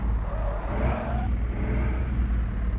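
A car engine idles steadily in a dating simulation video game, a close, continuous low rumble with no speech over it and a faint high whine near the end.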